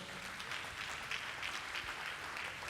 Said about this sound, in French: Applaudissons pour le roi Salomon.